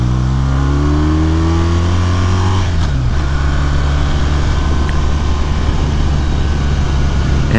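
A BMW R1200RT motorcycle engine revs up with a rising pitch, then drops back and settles into a steady, rough rumble nearby, loud and continuous with no talking.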